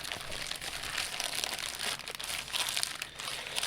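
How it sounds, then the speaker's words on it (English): A plastic bag of cable management gear is torn open with close, busy crinkling and crackling that continues steadily for several seconds, with no talking. "let's take the sticker off, but rip the bag"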